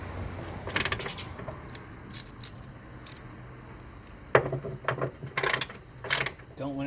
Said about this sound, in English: Then you want to take these bolts loose.